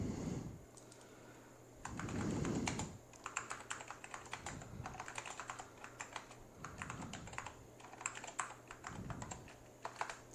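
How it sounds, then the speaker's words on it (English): Computer keyboard on a retro computer set up with a single ADB system, typed on in quick bursts of close clicky keystrokes separated by brief pauses, with a low background hum and no talking. "Make sure our keyboard still works."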